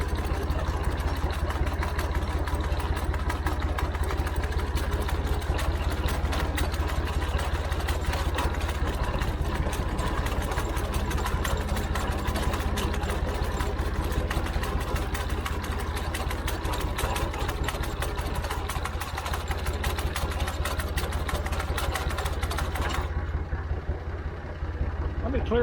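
Massey Ferguson MF 50 diesel tractor running steadily with an MF 32 sickle mower mounted, a continuous loud engine drone throughout that thins out near the end.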